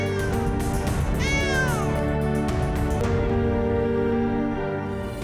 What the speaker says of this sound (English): It's a fishing cat!